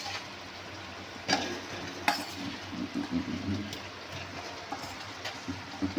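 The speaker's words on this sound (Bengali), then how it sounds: "মশলা করা হয়ে গেছে, এবার কষিয়ে নি।" Spices fry and are stirred in a pan for a potato and pointed gourd curry, giving a steady sizzle with repeated scraping strokes of the spoon, close and moderately loud.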